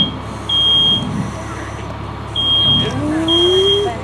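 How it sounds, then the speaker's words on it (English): Smoke detectors beep in long piercing tones during a kitchen grease fire demonstration, three alarm bursts sounding loud over a background roar, with people talking briefly. "Smoke detectors going off."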